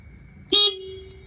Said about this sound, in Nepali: हर्न मारिदेऊ न हर्न बटन थिचिदेऊ न